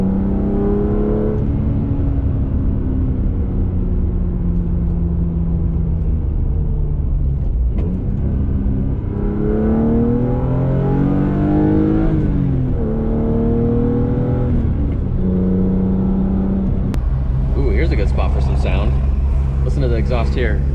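A BMW E36 M3 with headers, mid pipe and muffler revs hard in a couple of loud rising and falling pulls, heard from inside the car with a deep steady exhaust drone between them.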